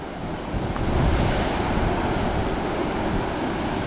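Ocean surf at Redhead Beach rolls in a steady broad wash, mixed with gusts of wind buffeting the microphone, with no talk.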